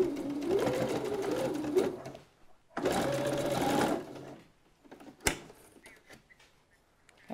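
A domestic sewing machine stitching fabric pieces runs in two loud bursts of rapid mechanical whirring of about two and one seconds each, then a sharp click and quieter handling noises follow.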